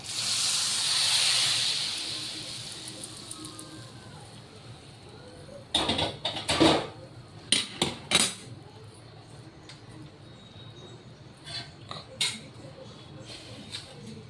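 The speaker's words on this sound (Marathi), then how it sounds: "आता यावरती हा तडका द्यायचा आहे" Garlic tadka poured over a spinach (palak) dish with the gas off gives a loud, hissing sizzle that fades over a few seconds. Clattering pan and utensil knocks follow, with no talking.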